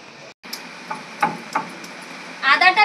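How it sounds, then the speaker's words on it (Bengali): Fresh peeled ginger is ground into a paste for an aar fish curry: a few scattered dull knocks, then a closer burst of rough rasping scrapes at the end, with no talking. "আদাটা বেটে নিচ্ছি।"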